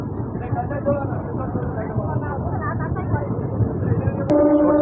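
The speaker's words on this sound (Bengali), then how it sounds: "ট্রেন আমাদের ছেড়ে দিল গলসি থেকে" A MEMU local train pulls out of Galsi station on the Barddhaman–Asansol line, its low steady rumble filling the clip and a brief horn blast near the end, with a voice talking over it.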